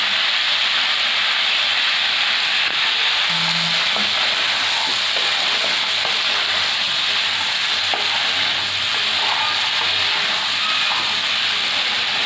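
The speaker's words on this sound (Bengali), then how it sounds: "আমি কটা ছোলা ভিজানো ছিল দিচ্ছি" Soaked chickpeas go into a squash curry already frying in a pan, giving a loud, continuous sizzle with stirring, close and constant, and no speech.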